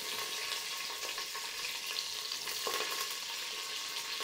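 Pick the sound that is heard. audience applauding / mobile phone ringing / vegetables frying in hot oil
vegetables frying in hot oil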